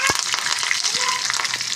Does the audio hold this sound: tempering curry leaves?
yes